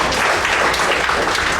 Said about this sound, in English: big round of applause to Toastmaster Joshua Daniel